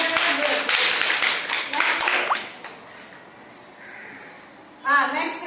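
Children in a classroom clap in a burst of sharp, close claps for about two seconds, with a teacher's voice talking over and after them.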